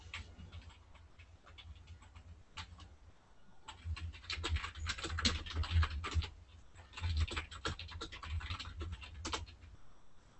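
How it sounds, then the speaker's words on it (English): Rapid keyboard typing on a computer, with dense clicking keystrokes at close range that thin out briefly and then pick up in louder bursts. "here's where I ended up typing in my username"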